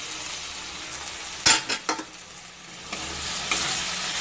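A spice paste with poppy seed and cashew paste sizzles in a pan as it is stirred, with a few sharp scraping strokes in the middle over a steady soft frying hiss.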